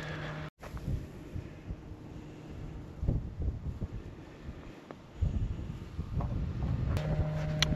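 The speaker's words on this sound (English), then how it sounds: "Keep out of the wind, because obviously, it's got really bad wind." Strong wind buffets the microphone outdoors in Yorkshire, a steady rushing roar with gusty swells that grow louder toward the end, with no voices.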